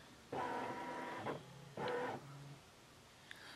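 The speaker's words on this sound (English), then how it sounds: "once I am happy with the placement, I just go ahead and stitch it in" A Baby Lock Solaris 2 sewing machine stitching a quilt design runs in two steady mechanical whirring bursts, each about a second long with a short pause between, followed by a quieter motor hum.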